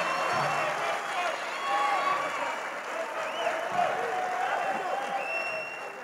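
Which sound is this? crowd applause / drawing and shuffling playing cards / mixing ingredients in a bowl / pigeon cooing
crowd applause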